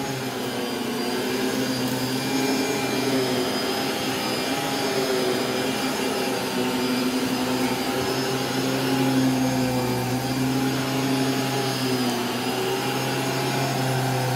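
A vacuum cleaner runs over carpet in a steady, loud, unbroken drone with a constant motor whine, with no talking.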